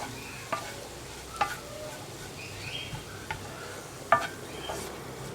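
Carrot and snake gourd thoran stirred in a pan, a soft continuous sizzle with a few faint scraping clicks of a spoon spaced out over several seconds, with no voices.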